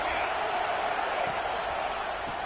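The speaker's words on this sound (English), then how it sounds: "This crowd bringing the energy and noise early." Football stadium crowd at a college game, a steady loud roar of many voices filling the whole stretch with no pauses, busy and close.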